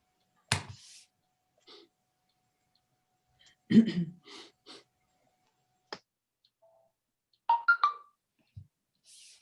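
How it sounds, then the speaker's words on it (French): A mobile phone gives off scattered short notification sounds during a dictation session over a Zoom call: sparse isolated chirps, ticks and brief tones separated by silence, with a few faint bits of speech between them. "c'est mon portable parce que je dois recevoir un message."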